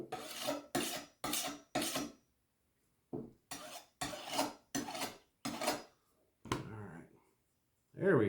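A knife blade is drawn repeatedly across a sharpener, giving close, crisp rasping strokes in quick rhythmic bursts, with a short pause midway and a few lighter scrapes at the end.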